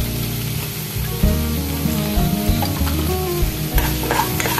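Turmeric and chili powder sauté in hot oil in a pan for a pabda fish curry, with a loud, continuous sizzle and steady stirring scrapes close by.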